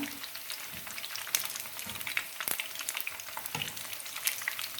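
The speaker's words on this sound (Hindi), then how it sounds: "और इसी तरह से बाकी के सारे जो हैं हम फ्राई कर लेंगे।" Kofta meatballs fry in hot oil, a quiet steady sizzle with crackles and occasional spatters, heard close and without any talking.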